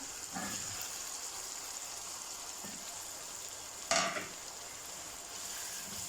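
Potatoes are tipped into a pan of frying spice masala for aloo baingan, giving a soft steady sizzle with a brief louder hiss near the middle as they hit the hot oil.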